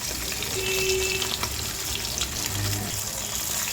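Katla fish frying in a pan for doi katla gives a steady, close sizzle and hiss that runs continuously under light kitchen clatter, with no talking.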